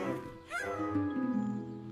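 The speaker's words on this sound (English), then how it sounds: "The cat is safe on the soft grass." A cartoon cat meows in a Peppa Pig 3D animation, a short rising cry heard clearly over a soft musical background.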